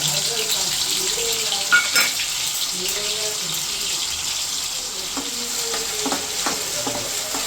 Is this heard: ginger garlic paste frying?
yes